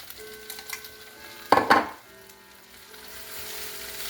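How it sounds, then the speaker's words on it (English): Half an onion hits a hot pan of smoked sausage, bursting into a loud sizzle that settles into a steady, quieter frying hiss. "I'm going to put my onions in now"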